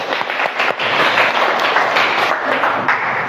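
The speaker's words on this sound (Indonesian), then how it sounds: "tepuk tangan untuk masnya." Students in a classroom applaud a classmate, loud, dense clapping from many hands that runs steadily for about three seconds, close and filling the room.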